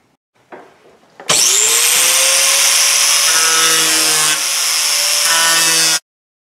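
A loud power saw cuts steadily through a Jeep TJ tub for several seconds, whining continuously with a slight pitch dip midway, then stops abruptly.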